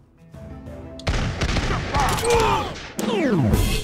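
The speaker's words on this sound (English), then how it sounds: "Chukonu sounds like he has a gun." Chukonu units in TABS fire rapid, gunshot-like volleys: a quiet lead-in, then a dense fusillade of sharp cracks with whooshing, swooping projectile sounds, loud and busy to the end.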